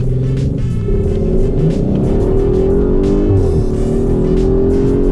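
A 2021 Audi RS5 Sportback's twin-turbo engine pulls hard in sport mode, a loud, close, sustained drone that climbs steadily in pitch through the run.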